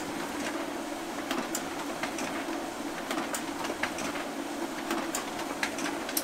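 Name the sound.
printer printing the day's orders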